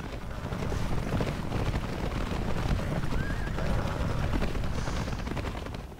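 Rohirrim cavalry horses in the strategy video game The Battle for Middle-earth, a steady loud drumming of many hooves with occasional whinnies, continuous throughout.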